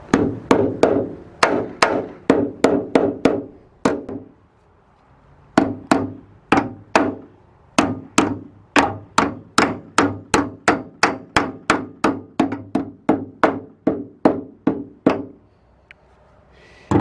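Steady metallic hammer strikes on a thin aluminum sheet for a ProMaster van's front wing, sharp ringing blows in quick bursts with a brief pause, then a long regular run of hits, close and loud.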